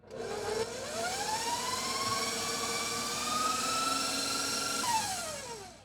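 An electric mixer whips keto cake batter in a home kitchen, a steady loud motor whine with a tone that rises over the first seconds, then runs evenly and drops suddenly near the end.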